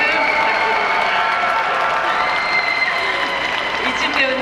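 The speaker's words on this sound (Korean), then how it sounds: "네, 큰 박수" Festival audience at a Busan International Film Festival open talk bursts into sustained, dense applause with cheering, steady and loud throughout, slightly thinning toward the end.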